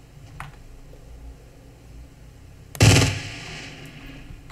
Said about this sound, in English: I didn't know it was a machine gun.